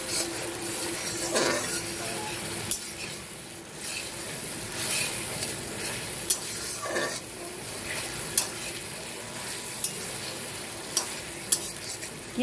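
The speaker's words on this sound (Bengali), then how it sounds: "আমি এটাকে ভেজে নিচ্ছি" Ground spice paste of radhuni and cumin fries in a pan, a continuous close sizzle and hiss with stirring scrapes and occasional sharp clinks of the utensil against the metal.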